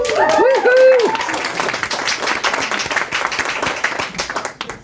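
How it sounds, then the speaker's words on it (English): An audience at an open mic night for local authors and poets gives a round of applause, starting with a few brief vocal sounds before dense clapping continues steadily and then tapers off. "Round of applause for Aaron."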